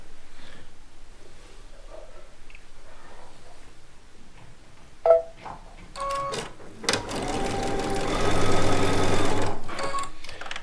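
A sewing machine stitches small fabric charm-pack squares. After a few quiet seconds and isolated clicks, the motor runs in a steady, fairly loud whirring burst, pausing briefly before continuing.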